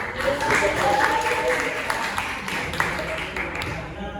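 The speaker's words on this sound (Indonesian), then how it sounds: "Kasih tepuk tangan." Students in a classroom give a short round of clapping, a steady busy patter of claps with voices mixed in underneath.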